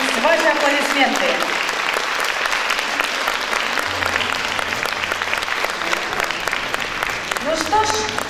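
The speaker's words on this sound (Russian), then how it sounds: "аплодисменты." An audience at a stage event claps steadily throughout, a dense even applause with brief vocal tones and music fragments at the start and end.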